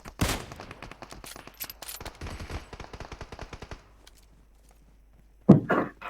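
Automatic gunfire in the PUBG Mobile battle game on the Erangel map: a fast, close rattle of shots for several seconds that then stops, followed after a short pause by one loud thump and a brief clatter.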